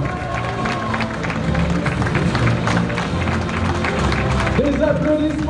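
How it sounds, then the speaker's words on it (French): An audience in a theatre applauds at the Miss Somme 2012 pageant, a steady, dense clapping that continues throughout while a voice speaks over it and music sounds in the background. "Des applaudissements pour la deuxième dauphine de Miss Somme 2012, Claire Poiré."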